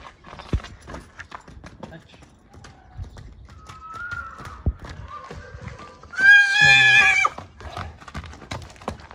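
A young mare, a horse for sale at a livestock market, gives one loud whinny midway while hooves clip-clop in a loose rhythm and people talk nearby.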